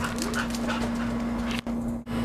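A dog whimpers and yips in short bursts over a steady background hum, close by.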